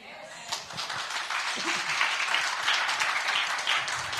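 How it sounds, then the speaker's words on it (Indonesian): Audience in a room applauding after a sermon-style talk, a steady wash of many hands clapping that swells after a brief start and holds at full strength throughout, no voices over it. "Beri tepuk tangan."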